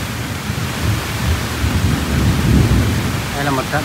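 Heavy rain falls in a tropical forest in the wet season, a dense continuous roar with low rumbling thunder swelling midway, fairly loud and close.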